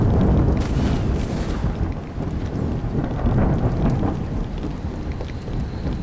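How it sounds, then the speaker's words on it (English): Loud thunder rumbles over steady heavy rain in the Deus Ex: Revision video game, a continuous stormy roar with no talking. "The lightning and the rain is really loud."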